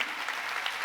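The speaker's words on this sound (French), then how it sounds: "Vous avez raison d'applaudir pour le Seigneur Jésus." Audience applause at a Catholic gathering honouring Jesus, a steady dense wash of many hands clapping, fairly loud and continuous throughout.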